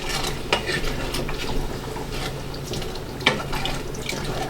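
Milk is stirred into a saucepan for reduced-fat vegetarian mac and cheese, giving a continuous soft liquid swish broken by occasional sharp scrapes and taps of the utensil against the pan.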